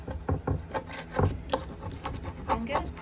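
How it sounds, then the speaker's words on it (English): Sandpaper is rubbed over a piece of wooden furniture in rapid, rhythmic rasping strokes, close and clear, with short bursts of scratchy friction repeating throughout. "We just want to give it a little bit of a sand again to get this off and even things up a little"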